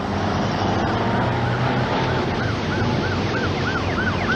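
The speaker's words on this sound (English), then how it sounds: "I heard a siren on St." An ambulance siren wails in rising and falling sweeps as it approaches an intersection on St. Joe Street, growing clearer over steady traffic and road noise.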